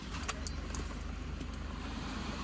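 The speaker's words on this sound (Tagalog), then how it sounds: "Yan sa'yo yung susi, Dan, ha?" A set of car keys jangles close by in a series of light metallic clinks while being handed over, with a low steady engine hum underneath.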